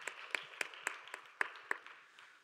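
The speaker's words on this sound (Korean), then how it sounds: "박수로 서로를 격려하겠습니다." Congregation applauding during a Korean church youth worship service: a sparse run of sharp, separate claps, loud at first and then thinning and fading, with no voices.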